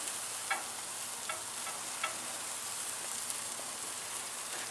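NY strip steak frying in a pan, a soft steady sizzle with occasional small pops and spatters, fairly quiet and close.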